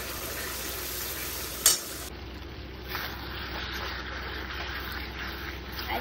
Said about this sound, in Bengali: আমি এবার আলুর দমে একটু হিং দিই, আর একটা শুকনো লঙ্কা।